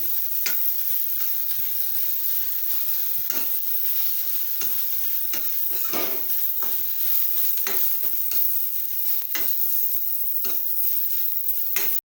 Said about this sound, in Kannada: ಹೀಗೆ ನೀಟಾಗಿ ಎಲ್ಲದನ್ನು ಹಸಿ ವಾಸನೆ ಎಲ್ಲ ಹೋಗಿ ಅದು ಚೆನ್ನಾಗಿ ತುಪ್ಪದಲ್ಲಿ ಹುರ್ಕೋಬೇಕು